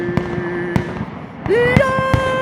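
Family backyard fireworks in Lonaconing, Maryland, sharp pops and crackling bursts in a loose rhythm, loud and fairly close, with a rising whistle and excited voices and cheering in the background.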